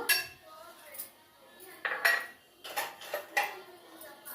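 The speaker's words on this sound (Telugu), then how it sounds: "ఈ కప్పు నిండా పెరుగు వేసుకోవాలి." A cup being filled with curd for curd rice, heard as a spoon clinking and scraping against crockery in a handful of sharp, close taps with quiet gaps between them.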